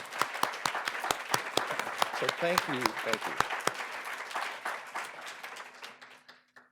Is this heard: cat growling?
no